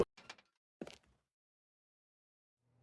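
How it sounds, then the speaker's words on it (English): A door in the video game The Stanley Parable: Ultra Deluxe opens with a quick sliding rush, then a second short thud-like swish, both close and clean against an otherwise silent background. "When Stanley and the bucket came to a set of two open doors, they entered the door on the left"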